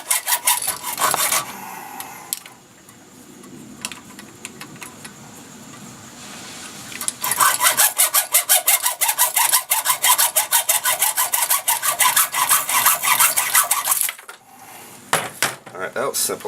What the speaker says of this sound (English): You're going to take your hacksaw. We're just going to cut off the end of this because it's not needed.